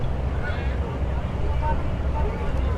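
A boat engine rumbles low and steady on the water in Dubai while wind buffets the microphone, the drone constant and fairly loud.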